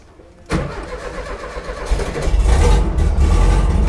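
A vehicle engine cranks and catches at once, then settles into a loud, close, steady rumbling idle that swells slightly as it runs, with no voices.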